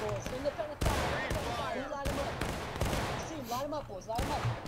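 Musket volleys crackle in a War of Rights infantry battle as a charge is met with fire, repeated sharp reports over several seconds, some near and some distant, while a voice shouts commands over the din.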